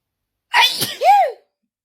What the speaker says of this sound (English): I just don't stop sneezing sometimes.